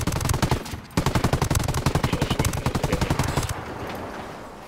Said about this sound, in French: Mitrailleuse légère, j'adore.